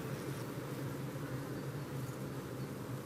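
Honeybees in a hive with two mobile phones placed nearby make a faint, steady, low buzzing hum that stays even throughout, with no talking.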